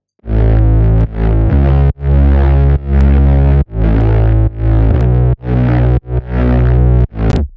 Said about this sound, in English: so the basses sound like this together.